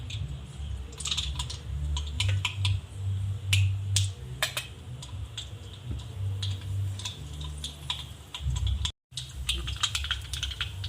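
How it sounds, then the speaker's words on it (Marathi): Mustard seeds pop and splutter in heated oil in a home kitchen, rapid irregular crackles and sharp snaps running steadily and close for the whole stretch, briefly cutting out once. "आता तेल तापला आहे मोहरी ॲड करते मी याच्यात"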